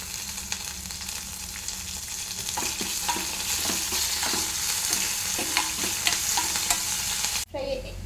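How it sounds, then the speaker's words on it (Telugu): Curry leaves crackle and sizzle in hot oil in a pan for egg upma, a loud, steady frying hiss with stirring scrapes throughout, cut by a brief sharp burst near the end. "ఇప్పుడు ఇందులోనే కరివేపాకు వేస్తున్నాను."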